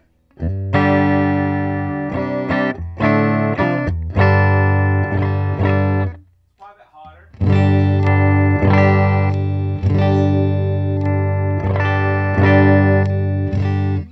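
Fender Michael Landau Coma Stratocaster electric guitar on its bridge pickup, played loud through effects with distortion, chorus and reverb: strummed chords and picked notes in two phrases split by a short pause.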